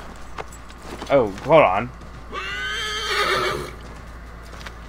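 A horse in Assassin's Creed 3 gallops with soft hoofbeats and lets out a loud, sustained whinny, while someone speaks briefly just before it.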